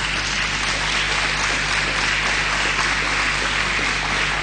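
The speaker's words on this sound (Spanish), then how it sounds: "quiere aplaudir, aplauda." A church congregation claps steadily in a broad, continuous wash of applause, loud and uniform from start to end with no voices standing out.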